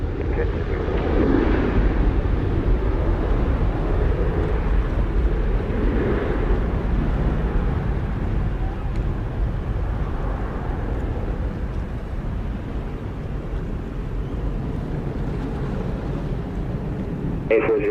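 An American Airlines jet on final approach to runway 07 at Montego Bay, Jamaica, a steady, loud engine roar and wind rush holding evenly throughout, with tower radio chatter underneath.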